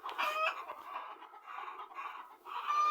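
Chickens cluck continuously at close range, busy overlapping calls with a brief higher crowing note at the start and end, no talk.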